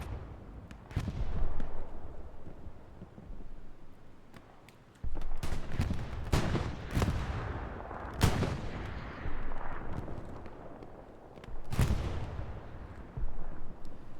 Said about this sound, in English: Looks like an AT gun shooting.